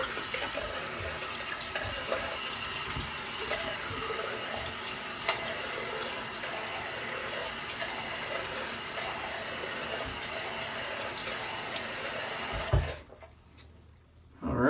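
A barbershop tap runs steadily as water splashes into a sink for wetting the face before a shave, then shuts off near the end, leaving near silence.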